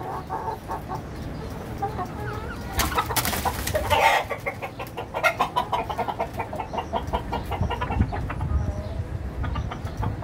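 Australorp chickens on a farm cluck and call repeatedly, a cluster of nearby hens with bursts of clucking and a louder squawking flurry partway through over low background noise.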